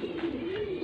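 Pigeons kept in a loft for sale coo in a steady, low rolling drone, close by and uninterrupted for under a second.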